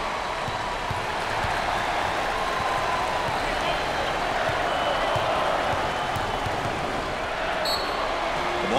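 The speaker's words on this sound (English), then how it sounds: "I think the home fans are going crazy. There's jubilation." A home college basketball crowd at Syracuse roars against Niagara, a dense, sustained wall of cheering and clapping with squeaks and a faint horn, under a commentator's voice.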